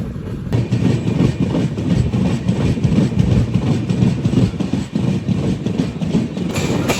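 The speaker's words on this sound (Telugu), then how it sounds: "అదిగోండి క్రాస్ ఓవర్, గూడ్స్ బండితో cross over, mall గాడితో cross over" The Jhelum Express rumbles loudly past a goods train, a continuous dense roar of wheels and wagons with rhythmic clatter running throughout.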